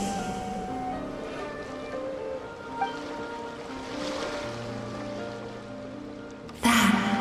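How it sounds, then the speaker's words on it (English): Ocean waves wash steadily in Genshin Impact, a continuous surf hiss beneath soft ambient music tones, ending with a brief louder burst of noise. "Go to where you can hear the sound of the waves."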